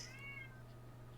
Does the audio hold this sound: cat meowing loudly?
yes